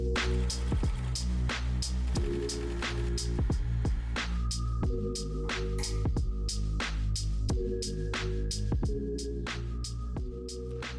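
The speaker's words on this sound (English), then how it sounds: "Ready? Let's start stitching." An embroidery machine stitches a mushroom design onto a tee, its motor humming steadily with a rapid, regular mechanical rhythm of needle strokes and periodic clicking, close and fairly quiet with no talking.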